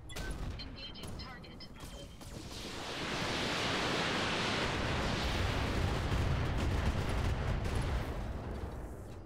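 Weapon fire in the mech combat game Roguetech: a heavy, sustained roaring blast that swells and holds for several seconds before easing off, preceded by a few brief sharper reports.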